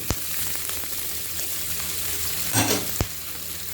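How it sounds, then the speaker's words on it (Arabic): Potatoes sauté in a pan with onion and garlic for lentil soup, a steady frying sizzle with a few sharp utensil knocks and a brief louder stir-scrape. "نشوح البطاطس."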